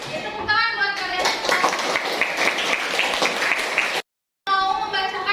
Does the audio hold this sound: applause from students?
yes